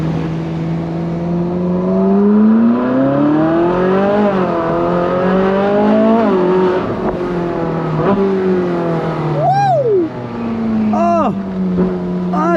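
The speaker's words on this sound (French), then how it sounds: "la sortie du rond-point, on va essayer de se faire une petite accélération. Maintenant le moteur est bien chaud." A Ferrari 458 Spider with a warm engine pulls out of a roundabout and accelerates hard, its loud engine note climbing and dropping through several gear changes, close up and continuous for the whole stretch.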